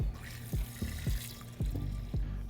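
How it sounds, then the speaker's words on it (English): Cold water running from a tap into a pot of potatoes for purée, a steady splashing pour with faint periodic thumps beneath it, close and fairly quiet. "we're going to cover them with cold water, very important, and a lot of salt"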